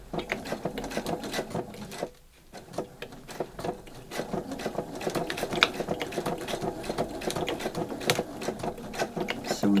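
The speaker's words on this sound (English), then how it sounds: "Sewing through quite a few layers here." A vintage sewing machine runs a straight stitch through several thick layers, clattering in a fast, close rhythm with a short pause near the start before carrying on steadily.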